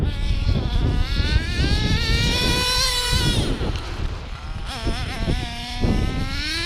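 A Hyper 7 engine runs after new parts are fitted, droning loudly and close by. Its pitch sweeps up and down as the revs rise and fall, and it keeps running without cutting out.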